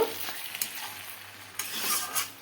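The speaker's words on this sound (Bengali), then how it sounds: "তাই আমি দু চামচ গোবিন্দভোগের চাল এখানে মিশিয়ে দিলাম এভাবে নাড়তে থাকব" A spoon scrapes and stirs through bottle gourd curry mixed with Gobindobhog rice in a pan, with a soft sizzle beneath and a few sharper scraping strokes standing out, close and fairly quiet.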